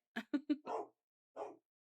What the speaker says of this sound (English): my dog's barking at the trash man